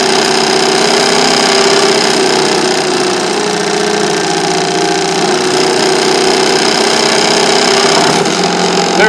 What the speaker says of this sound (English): the motor and this hacksaw blade right here have the same frequency